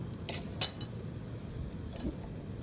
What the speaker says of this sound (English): Got one right here. Spoon.